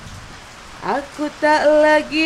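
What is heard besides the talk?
rain falling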